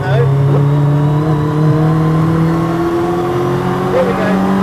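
A car's engine drones loud and close as it accelerates hard in a straight line, a steady rising pitch held through the run with faint gear-change dips.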